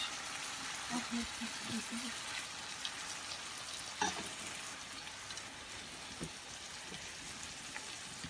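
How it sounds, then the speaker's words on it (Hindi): Capsicum frying in a pan with sweet corn for Italian-style pasta: a faint, continuous crackling sizzle like light rain, with one brief clink partway through. "फिर इसमें डालते हैं शिमला मिर्च।"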